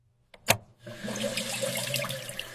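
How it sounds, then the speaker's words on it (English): A toilet flushes close by: a sharp click of the handle, then a loud steady rush of swirling water that continues to the end, with no talk. "Flush the toilet."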